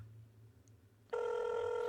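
A desk phone begins ringing during an attended call transfer to extension 9000, a steady bright electronic ring that starts after a second of quiet line hiss and continues loudly to the end.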